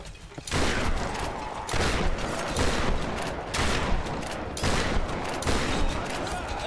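Sustained video game gunfire inside a mausoleum setting, heavy repeated volleys pulsing in roughly regular bursts about once a second, loud and dense throughout.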